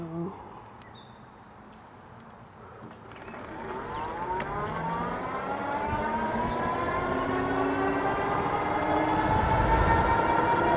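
A Hynox Trooper X dual-suspension electric bike motor is pushed to full throttle, its whine rising steadily in pitch and growing louder over about ten seconds, with faint outdoor background and no talk.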